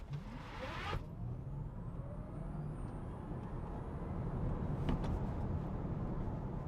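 A Tesla Model Y on Hankook Ion Evo all-season tires accelerating from 0 to 60, a quiet, steady electric whir and rising road and tire hum that builds gently, with a couple of brief clicks.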